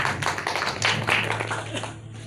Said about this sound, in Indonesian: Tepuk tangan saudara sekalian.